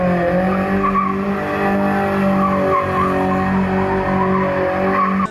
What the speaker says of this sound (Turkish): Şimdi arkadaşlar hemen şurada bir kısa bir drift koyayım.